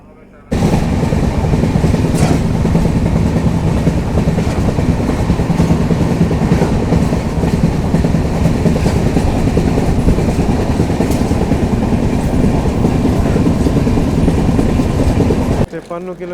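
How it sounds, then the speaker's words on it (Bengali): The Tamralipta Express, a Howrah to Digha train, runs loudly on its rails, a continuous rumbling roar with rapid clattering wheel rhythm beginning abruptly and cutting off near the end, heard close from on board. "53 কিলোমিটার যাত্রা করে আমাদের ট্রেন তার পঞ্চম হল্টে এসে আপাতত দাঁড়ালো"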